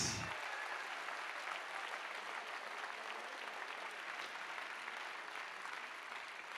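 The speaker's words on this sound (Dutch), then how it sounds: "Groot applaus voor deze excellente scholen in het VMBO-onderwijs." Sustained applause from an audience at a school awards ceremony for excellent vocational schools, a dense steady wash of clapping filling the hall without pause.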